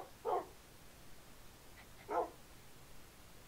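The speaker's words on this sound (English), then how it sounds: "I just have like a bunch of dogs everywhere." Dogs bark twice in a farming video game, two short separate barks spaced about two seconds apart, moderately loud over a quiet background with no talking.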